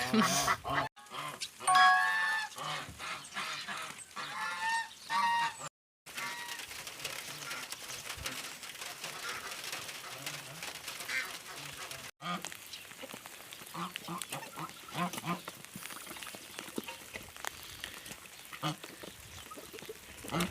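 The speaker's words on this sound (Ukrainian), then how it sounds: "Гуси, качки кричать, хочуть вже на волю" Geese and ducks call noisily, a busy mix of honks and quacks from a flock nearby, continuing throughout with brief breaks.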